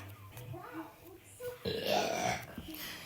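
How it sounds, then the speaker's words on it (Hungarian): A person lets out a burp close by during a gaming session, amid ongoing chatter and a voice. "Ne büfögjél már az arcomba,"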